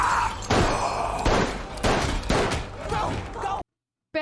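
Repeated gunshots in a firefight from The Last of Us, several loud bursts in quick succession over about three and a half seconds before abrupt silence, with a voice over the shots.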